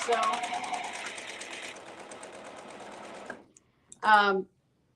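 A serger stitches fabric in a fast, even mechanical whir of rapid needle strokes, steady for over three seconds before cutting off, followed by a brief spoken remark.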